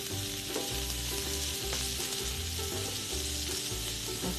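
Asparagus sizzles steadily in a hot frying pan while being cooked for an asparagus torta, with a constant crackling hiss, occasional stirring clicks, and a low hum underneath.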